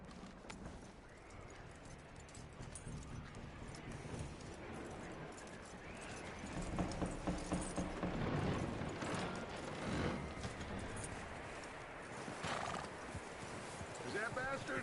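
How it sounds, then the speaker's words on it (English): A horse in the Red Dead Redemption 2 video game clip-clops along with steady hoofbeats and lets out a whinny, moderately close, while characters talk over the game sounds. "That looks like a decent horse."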